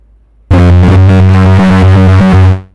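Synthesizer tone with two oscillators hard-synced, a loud buzzy, harmonically rich sustained sound with distorted character, stepping through a few brief pitch changes before cutting off after about two seconds.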